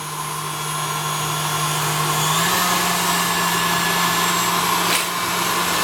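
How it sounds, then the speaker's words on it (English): A KitchenAid Artisan stand mixer churning sugar, cream and salt into ice cream, a loud steady motor whine that steps up slightly in pitch as the speed is raised, with a brief knock near the end. "I love this machine. It's a KitchenAid Artisan"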